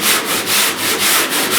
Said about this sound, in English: I want to start sanding till I start seeing the metal or my edges cut through